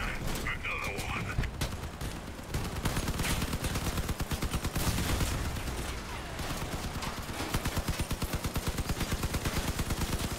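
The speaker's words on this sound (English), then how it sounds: "An enemy sniper somewhere." Dense, continuous sniper and automatic gunfire fills a battle in the vehicle combat game Crossout. A steady rapid rhythm of shots builds toward the end, loud and constant throughout.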